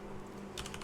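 Computer keyboard typing while entering a description in a spreadsheet-to-web tool: a short burst of several quick, close keystrokes near the end over a faint steady room hum, with no talking.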